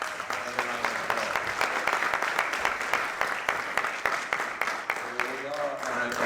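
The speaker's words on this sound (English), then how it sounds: "Let's give her a round of applause." An audience in a hospital auditorium at a day-of-action rally to save the post office applauds, giving dense, steady clapping throughout while a voice speaks over it.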